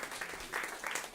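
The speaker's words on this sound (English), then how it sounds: "Give them another round of applause," A seated audience applauds panelists at a food policy conversation event, a brief dense patter of many hands clapping at moderate volume, alone without speech.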